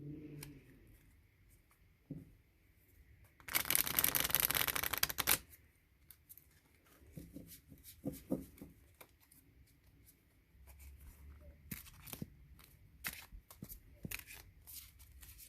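A burst of riffling tarot card shuffles, about two seconds of dense crisp fluttering, close by, followed by scattered soft taps and handling sounds.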